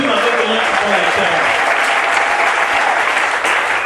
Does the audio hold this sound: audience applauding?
yes